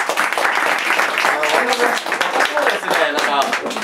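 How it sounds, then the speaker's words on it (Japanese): Steady, dense applause from a crowd, clapping continuously throughout with a voice faintly mixed in. "皆さん、拍手でお迎えください"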